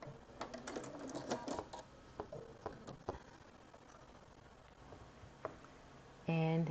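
An embroidery machine sews a back stitch, giving a rapid run of light mechanical clicks and taps at close range, then quieter scattered ticks, before a louder tonal burst at the end.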